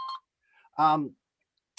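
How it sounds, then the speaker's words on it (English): Short electronic phone notification tones from an unmuted phone, a brief beep burst followed by another tonal chime and a tiny click, heard during a quiet indoor chat. "Sorry, I didn't mute my phone this morning."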